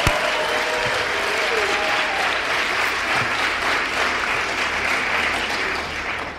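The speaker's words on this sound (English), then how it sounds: "Let's give them a round of applause." Sustained applause from the audience at a hall of fame ceremony, a thick even wash of clapping, with faint crowd voices and a low hum beneath it.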